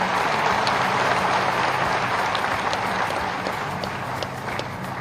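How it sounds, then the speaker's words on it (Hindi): Loud, sustained applause from a large crowd at a government inauguration of development schemes, dense and steady throughout, slightly tapering toward the end. "बार जोरदार तालियों के साथ"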